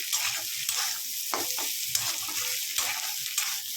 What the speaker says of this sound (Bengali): এর মধ্যে দুটো ডিম দিয়ে ভালো করে একটুখানি নেড়ে দিলাম